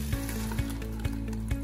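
A chicken stock cube frying in a pan, a steady sizzle with regular soft scraping or stirring knocks about every half second.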